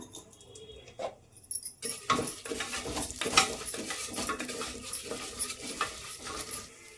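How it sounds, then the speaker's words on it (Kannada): Moong dal frying in oil in a pan for onion-free bisibelebath, heard as scraping and clinking strokes of a spoon against the pan over a light sizzle, starting after a quiet moment and continuing steadily up close. "ನಾನಿಲ್ಲಿ ನೋಡಿ ಹೆಸರು ಬೇಳೆ ತೊಗೊಂಡಿದ್ದೀನಿ ಅಂದರೆ ಒಂದು ಅರ್ಧ ಕಪ್ಪು ಹೆಸರು ಬೇಳೆ ಈಗ ಇದನ್ನು ಸ್ವಲ್ಪ ಫ್ರೈ ಮಾಡ್ಕೊಳ್ಳೋಣ"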